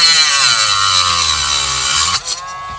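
A power tool cuts a piece off a Difalco controller handle, a loud continuous high whine that slowly drops in pitch before cutting off near the end.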